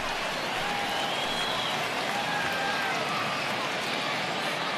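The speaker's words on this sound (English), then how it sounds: "listen to this crowd now. They are really into this." A stadium crowd roars during a late-inning rally in the baseball video game MLB The Show 20, a steady dense wash of cheering and clapping that fills the whole stretch at an even level, with a game commentator's voice mixed in.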